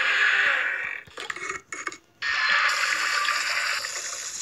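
Water runs steadily from a tap as a broad hiss, pausing briefly in the middle with a few clinks and splashes before the flow resumes strongly, close and loud.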